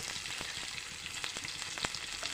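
Vegetables (onion, carrot, capsicum, cabbage) frying in oil in a pan for idli fry give a steady, soft sizzle with faint crackles and pops throughout and no talking.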